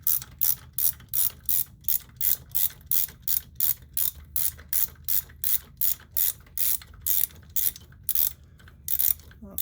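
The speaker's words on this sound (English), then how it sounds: "For this one, we'll go under the brake line there and break it loose." A ratchet wrench clicks in steady repeated bursts while breaking loose a bolt beneath the brake line on a 2010 Polaris Sportsman 500 HO ATV, close and crisp with a faint low hum underneath.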